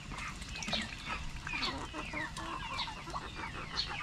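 A backyard duck is hand-fed and drinks, making soft, chattering calls and quick dabbling sounds up close, continuous and fairly quiet.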